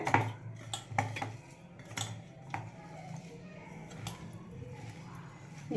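Rice pakoda batter of cooked rice being mixed by hand in a bowl, with soft squelching and scattered clinks of utensils against the dish, close and fairly quiet throughout.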